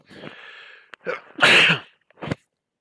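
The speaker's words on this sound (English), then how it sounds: "Excuse me, I'm going to sneeze." A person sneezes once, close and loud, after a short breathy intake, with a couple of small sniffs and noises around it and no talking.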